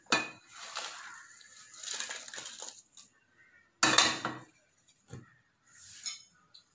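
Curry leaves crackling as they dry-roast in a hot pan while rasam powder is prepared, with sharp bursts of crisp popping and rustling that come in waves, loudest early and near the middle, then trailing off into sparse pops.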